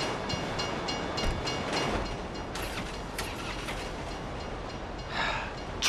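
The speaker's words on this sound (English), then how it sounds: "You'd know the train comes by right now" A train in GTA 5 rumbles past on the rails with a continuous loud roar and rhythmic clatter, steady throughout with brief metallic rattles near the end.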